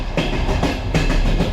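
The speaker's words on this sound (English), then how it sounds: "As the train rolls on" A Ukrainian hospital train rolls steadily on its rails, loud and close, with rhythmic clickety-clack wheel beats repeating over a continuous rumbling roar.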